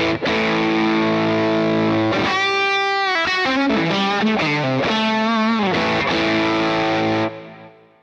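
Heavily distorted electric guitar through a Jam Pedals Rattler ltd pedal playing a lead line with bends and sustained notes over a held chord, loud and singing, fading at the end.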